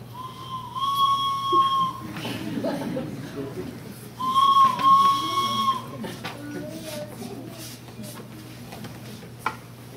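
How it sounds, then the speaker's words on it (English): A train gives off a soft steady hiss of steam with two drawn-out metallic squeals, moderately loud against a low background rumble. "From outside came the sounds of hissing steam and squeaking metal."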